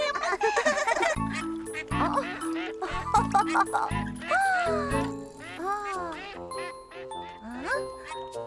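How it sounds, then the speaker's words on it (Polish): Ducks quack repeatedly in a Polish children's cartoon, cheerful nasal calls mixed with bright chimes and tinkling music, alongside animated character voices. "Kaczuszki taś, taś!"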